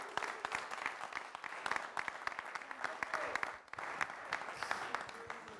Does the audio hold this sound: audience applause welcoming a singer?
yes